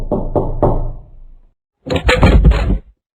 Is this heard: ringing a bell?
no